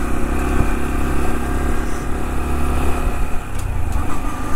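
A Honda DAX125 motorcycle cruises slowly, its small engine giving a steady, loud, close-up hum with gentle variations in throttle.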